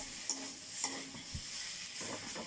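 Ginger paste stir-fried in a pan, with steady sizzling under scattered scraping clinks of a spatula stirring against the metal, close and fairly quiet.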